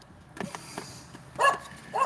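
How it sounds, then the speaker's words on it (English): A dog, Loki, lets out a few short barks and yips from inside a room, the sharpest bark loud and close near the end, with small scattered noises between. "Somebody barked in there."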